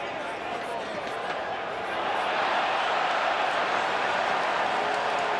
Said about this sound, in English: Crowd's reacting to the replay.